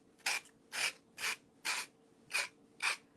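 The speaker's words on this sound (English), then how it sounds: "Now, same thing, you want to make sure you're sanding back." Sandpaper rubs against the edge of a round, napkin-layered Christmas ornament in six evenly spaced short strokes, each a soft rasping scrape separated by brief pauses, close and fairly quiet.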